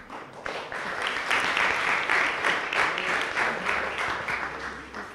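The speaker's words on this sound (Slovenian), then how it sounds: "Bravo, en velik aplavz za pogum." An audience at a Slovenian startup workshop breaks into applause, clapping building quickly to a strong, even patter that continues throughout.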